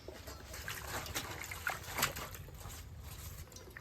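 Water poured over taro leaves as they are washed in a home kitchen, a faint, steady trickle and light splashing heard close by with soft background noise.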